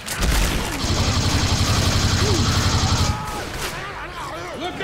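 Rapid automatic gunfire from the video game Left 4 Dead 2 rattles loudly for about two seconds in a dense burst, then gives way to scattered shots and game noise.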